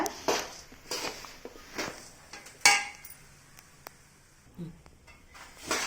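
A utensil stirs puffed rice and roasted peanuts in a pan, giving intermittent scraping clinks at irregular intervals, some louder than others, in a quiet kitchen.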